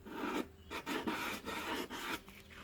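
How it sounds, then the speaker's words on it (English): Resin being lightly hand-sanded with fine 400 grit sandpaper, a close, quiet rasping rub in short back-and-forth strokes with brief pauses between them. "I like to use a very fine sandpaper. This is a 400 grit."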